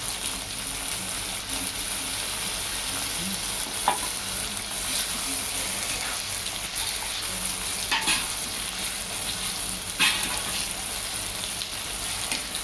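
Chopped tomatoes sauté in a pan over a spice paste, giving a steady close sizzle with occasional scrapes of stirring at intervals.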